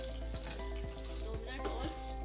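Vermicelli roasts in a couple of spoons of melted ghee in a pan, giving a soft, steady sizzle with a few light scraping stirs at regular intervals.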